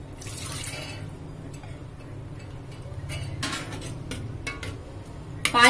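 Water is poured into a cooking pot holding soaked dal for stuffed paneer dal dhokli, giving a steady splashing and trickling at moderate level with faint clinks of utensils, and a louder clatter at the very end.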